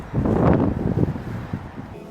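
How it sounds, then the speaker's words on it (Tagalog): Loud gusting wind buffets the microphone in rough, low rumbling bursts, strongest at the start and easing slightly. "Lakas ng hangin guys."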